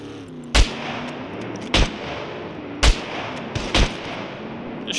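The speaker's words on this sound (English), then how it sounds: "Just shooting off rounds." Gunfire in the survival video game Scum, four separate sharp shots spaced roughly a second apart, the last two close together, loud and punchy over a steady ambient hiss.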